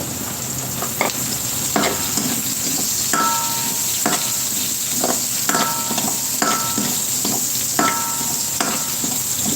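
Ginger tossed into a pan of onion and garlic already frying golden, giving a steady close sizzle broken by repeated scraping stirs with a spatula at an irregular rhythm.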